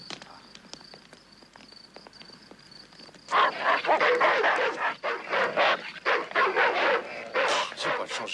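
A dog barks in a run of loud, close barks that start suddenly after a quiet opening with faint ticking and carry on, bark after bark, to the end.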